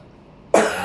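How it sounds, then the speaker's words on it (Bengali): A single sharp cough bursts out suddenly after near silence, close and fairly loud, then trails off. "আমার অনেক কাশি হয়েছে"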